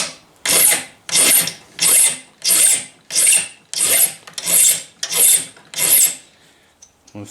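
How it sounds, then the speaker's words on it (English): A metal file rasps across the soft, non-hardened end of a recycled steel knife blade in about ten even back-and-forth strokes, close and loud, in a steady rhythm before stopping. "I'm filing it away."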